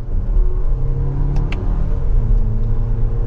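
Engine of a 2024 Toyota Grand Highlander 4WD Platinum, no longer a V6, accelerating on the road: a steady, loud low rumble and drone from inside the cabin throughout.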